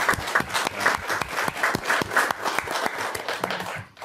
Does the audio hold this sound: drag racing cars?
no